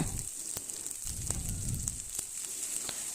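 Chopped small shallot-type onions frying in a pan for a chow chow kootu, a steady close crackling sizzle with bursts of spattering throughout, no voices.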